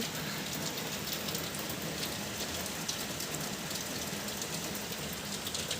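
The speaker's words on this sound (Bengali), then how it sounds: "প্রচুর বৃষ্টি" Heavy rain pours down continuously around a balcony with potted plants, a dense steady hiss of drops with no speech.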